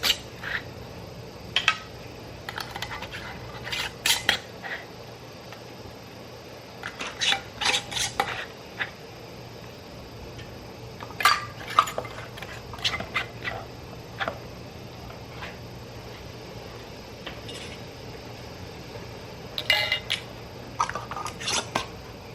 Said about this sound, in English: So I'm going to go ahead and get the lids on here.